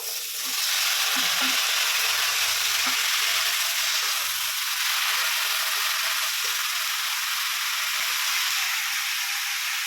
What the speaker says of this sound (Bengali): এই দেখো ফুলকপি আলু কেটে নিয়েছি এগুলো আমি ভেজে নিই